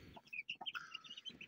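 A mostly rooster flock in a coop clucks in a brief burst of quick, soft, chattering calls, fairly close but quiet.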